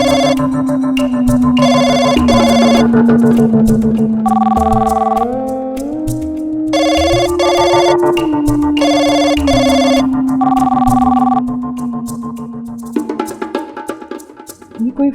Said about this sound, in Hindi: ये कोई फोन क्यों नहीं उठा रहा है?